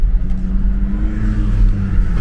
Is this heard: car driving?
yes